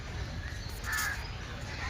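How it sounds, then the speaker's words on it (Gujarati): A single short caw from a bird, crow-like and mid-distance, rises over a low steady rumble of background noise at a zoo aviary at Kankaria in Ahmedabad. "પક્ષીઓ"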